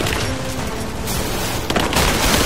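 Enemy gunfire in Rise of the Tomb Raider comes as a dense, loud, continuous barrage of rapid shots and booms that fills the whole stretch without a break.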